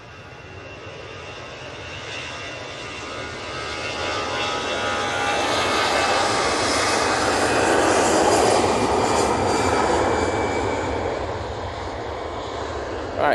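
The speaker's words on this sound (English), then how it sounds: "Virgin Atlantic coming in. Just about to kiss the tarmac on 23 right." A Virgin Atlantic airliner touches down on runway 23 right at Manchester Airport, its broadband engine roar building steadily and holding loud and near across the clip, with no voices.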